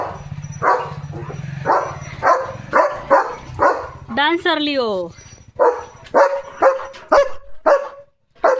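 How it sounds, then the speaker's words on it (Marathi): A German shepherd in a village barks loudly and repeatedly at passing cattle, in close sharp barks with a drawn-out whining yelp in the middle, while a person talks over the barking. "किती भुंकतोय येड्या. किती मोठा आवाज आहे तुझा."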